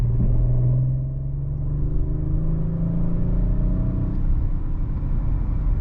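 An Audi RS5 Sportback accelerates hard from inside the cabin, engine pitch climbing then dropping as it downshifts, followed by a sustained rising whir and rumble.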